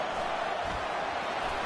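A football stadium crowd roars in a steady, loud wash of massed voices during an LSU game, with no distinct breaks or peaks.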